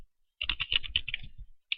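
Quick run of keystrokes on a computer keyboard as a chat command is typed in a blocky crafting game, about a dozen close, crisp taps in a second, then a pause and one last key.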